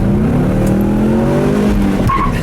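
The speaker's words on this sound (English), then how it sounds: "Really got the second gear chirp." A Ford Mustang accelerates hard with windows down, engine tone climbing steadily before a short tire chirp on the shift into second gear, close and loud.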